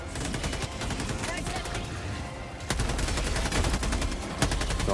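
Machine gun turret firing in Helldivers 2, a dense, continuous rattle of rapid gunfire with overlapping bursts, loud and close, with people talking underneath.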